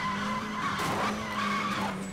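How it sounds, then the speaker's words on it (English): A car drifts through a long, sustained tire skid in the Need For Speed Most Wanted 2012 racing game. A steady squeal runs over a constant engine drone, with no talking. "Celebrate by doing a massive drift."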